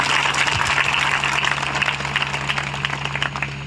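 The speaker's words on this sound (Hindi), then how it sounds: "तालियां बजाएं खुदा उनके लिए" A church congregation claps for seven priests, a fairly loud, even spread of applause over a constant low hum that slowly thins toward the end.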